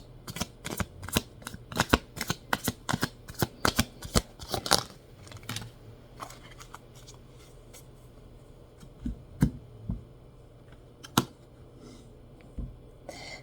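Tarot cards shuffled by hand, a rapid run of crisp riffling snaps over the first five seconds, then scattered softer card flicks and slides, close and quiet with no voice.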